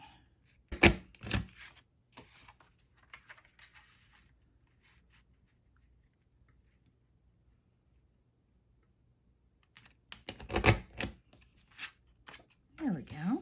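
An old EK Success Martha Stewart craft punch pressed through paper, giving a couple of sharp close clunks near the start and another cluster of punching clicks later, separated by near silence, with brief talk at the end.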